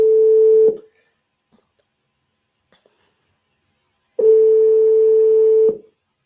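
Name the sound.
telephone dialing and ringing, calling insurer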